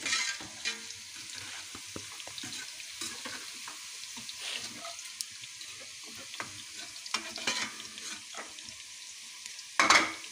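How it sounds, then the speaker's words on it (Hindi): Onions fry and brown in a pan with a soft, crackling sizzle broken by scattered stirring clicks and scrapes, plus a brief clatter near the end. "प्याज हमारा अब सुरख हो रहा"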